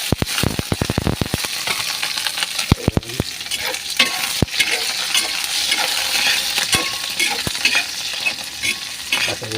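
Chicken feet sautéing with garlic and onion in a pan, crackling sizzle with repeated sharp scraping stirs, dense near the start and then steadier frying, close and alone.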